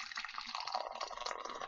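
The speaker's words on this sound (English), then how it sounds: "I should pour myself some tea." Tea is poured into a cup as a steady, faint stream of liquid running for the whole stretch, with no talking.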